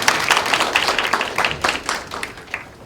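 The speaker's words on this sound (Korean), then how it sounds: "박수로 맞이해주시겠습니다." Brisk applause from the audience at a 2016 law school graduation ceremony in Korea as a guest is welcomed, with crisp individual claps standing out in a steady burst that eases slightly toward the end.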